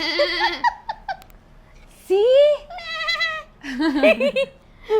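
A woman indoors imitates a goat with her voice, giving several wavering bleats in bursts, close and loud, broken by a brief spoken word and some giggling.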